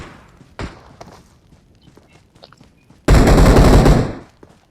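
A sudden loud burst of rapid automatic gunfire from the PUBG Mobile battle royale game, lasting about a second, follows a sharper single shot and faint footsteps, with no talk over it.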